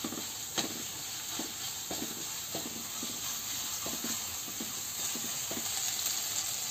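Onions frying in a pan over high heat, giving a steady soft sizzle with regular stirring scrapes roughly every half second, fairly quiet and close.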